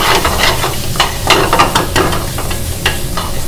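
Onion tomato masala for chicken tikka masala sizzles and fries in a pan, loud and close, while a spoon stirs and scrapes through it in irregular strokes.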